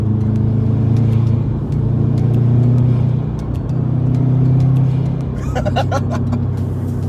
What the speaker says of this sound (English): You can't beat a Subaru sound, especially the turbo and the blow-off valve.